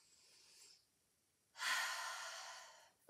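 A single deep breath in a Pilates reformer class, a soft airy exhale fading, a short pause, then a long, louder inhale drawn steadily through the nose and mouth, close and otherwise quiet.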